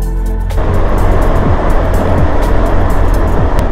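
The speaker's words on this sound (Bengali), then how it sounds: "ফার্স্ট টাইম এই বাইকটা নিয়ে এরকম অফরোড করছি" A motorbike rides off-road over a broken, muddy road on a trip toward North Sikkim, with a loud constant engine drone and rumbling road and wind noise close to the microphone.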